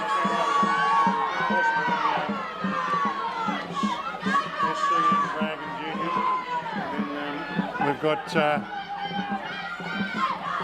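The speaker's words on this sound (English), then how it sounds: "Wow, can you hear the crowd?" A large crowd cheers and shouts loudly and continuously at a 2000 m rowing race, with excited voices rising and falling and a commentator speaking over the din.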